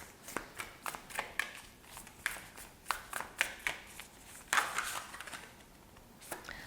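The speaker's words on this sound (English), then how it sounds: "let's go ahead and shuffle this deck right here" A deck of tarot-style reading cards is shuffled by hand, giving a run of quick, crisp riffling slaps and flicks in uneven bursts, close and fairly clear, with no talking.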